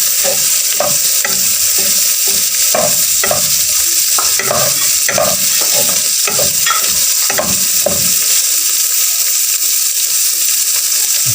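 Ground pork giniling and tokwa tofu sizzle hard in a pan, with steady loud frying and repeated stirring scrapes throughout and no talking.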